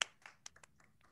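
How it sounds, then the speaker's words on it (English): Scattered, sparse hand claps from a few people at an online high school winter concert, faint and irregular, with a sharp clap at the start and lighter ones following. "All unmute and clap for all of our performers"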